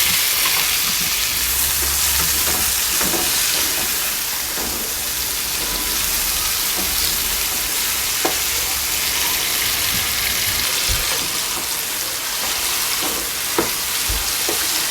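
String beans sizzle in a hot pan alongside garlic butter potatoes, a steady loud crackling hiss with occasional sharp pops and stirring scrapes, no voices.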